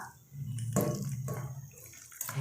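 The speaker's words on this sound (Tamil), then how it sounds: "இந்த கறி வேகிற அளவுக்கு தண்ணி ஊற்றினா போதும்" Water is poured over marinated mutton in a pot while making coconut milk mutton dum biryani, a close, gurgling splash lasting a couple of seconds with a brief interruption in the flow.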